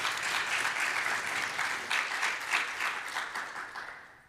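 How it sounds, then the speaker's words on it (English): Audience applause for volunteer ambassadors at a DrupalCon community summit conference in Atlanta, a steady crowd clapping that fills the whole stretch with dense, even sound and tapers slightly toward the end. "Let's give them a round of applause because they're volunteering their time."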